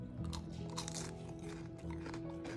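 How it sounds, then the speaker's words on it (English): Crunchy bites into a homemade sandwich loaded with lengthwise-sliced pickles, several close, crisp crackling bursts with chewing between them, heard up close and fairly quiet. "You hear that crunch?"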